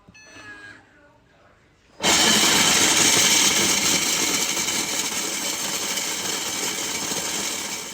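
A food processor's mini bowl grinds almonds into powder with a loud, steady whirring roar that starts abruptly after a quiet moment with faint beeps, then runs continuously to the end.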